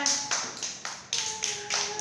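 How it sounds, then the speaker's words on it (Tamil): Children clap their hands together in a quick, even rhythm during a classroom activity. There are about seven sharp claps, close by and fairly light, with no talking in between. "கை தட்டுங்க எல்லாரும்"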